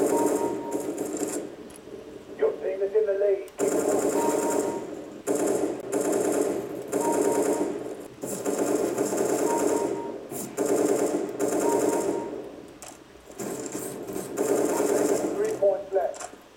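Rapid automatic gunfire from the video game CSGO rattles in long dense bursts broken by brief pauses, with someone talking over much of it.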